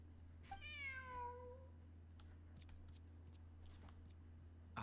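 A cat in the Genshin Impact video game gives a single clear rising-then-falling meow near the start, followed by faint scattered game sounds over a low steady hum.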